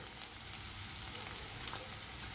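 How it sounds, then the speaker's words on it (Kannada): Onion, garlic, ginger, green chilli, cumin and pepper fry in a pan for goat leg soup, a faint steady sizzle with a few soft pops and crackles. "ಸ್ವಲ್ಪ ಫ್ರೈ ಮಾಡೋಣ ಇದನ್ನು"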